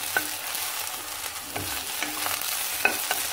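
Okra pieces sautéing in an open pan for a mango and okra sambar, a steady sizzle broken by several sharp clicks and scrapes of the spatula stirring them, close and alone with no talk.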